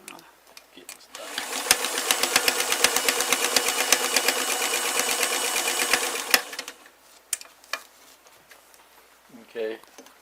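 A sewing machine stitches Dickies work pants in a steady, rapid run of about five seconds, loud and close, then stops, leaving brief handling noises and a short burst of talk.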